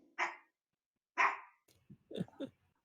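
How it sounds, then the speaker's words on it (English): A dog barks several times: two sharp, loud barks spaced about a second apart, then a cluster of quicker, lower yips and growly barks close to the listener, with no talking over them. "My dog's barking at me."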